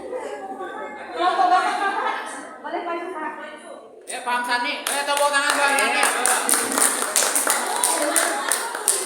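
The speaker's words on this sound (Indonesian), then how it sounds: "Tepuk tangan buat Sani." A group at a school guidance-counselling session applauds a participant with a dense run of claps. Chatter and light laughter come before and under it.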